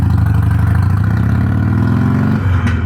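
A deep, throaty Harley-Davidson Iron 883 engine with a slip-on exhaust idles with a loping, pulsing exhaust beat, close and loud, then the revs shift briefly near the end.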